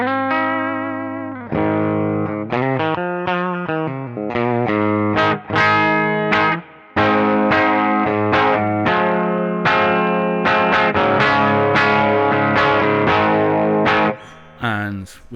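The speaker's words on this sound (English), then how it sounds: "There's a really nice sounding back pickup sound." An SX 335 semi-hollow electric guitar played on the back pickup through a clean amp, strummed chords and picked notes ringing loud and steady with brief gaps between phrases.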